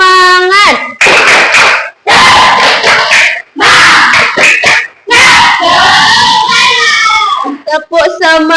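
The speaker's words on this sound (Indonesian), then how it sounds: "Kita tepuk semangat dulu ya." A class of schoolchildren claps and chants together in a loud, rhythmic classroom spirit clap, with sharp bursts of hand claps punctuating shouted, sing-song voices and brief pauses between phrases.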